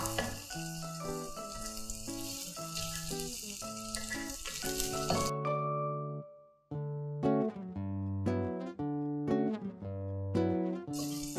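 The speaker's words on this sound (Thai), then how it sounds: "พอกระเทียมกับพริกนะคะเริ่มส่งกลิ่นหอมเนี่ยก็ใส่กุ้งค่ะที่เราปอกเปลือกไว้ลงไปผัด" Peeled shrimp stir-fried with garlic and chili in a hot pan, with sizzling and stirring under steady background music; the sizzle cuts out briefly midway, then resumes.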